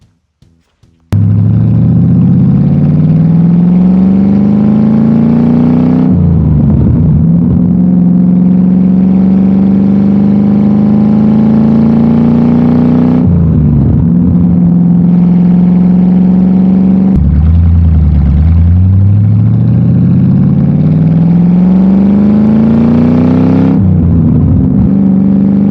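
Plymouth Road Runner engine and exhaust, recorded close and loud, starting with a few sharp blips, then repeated long revving sweeps that rise in pitch, drop back and climb again in rhythmic cycles.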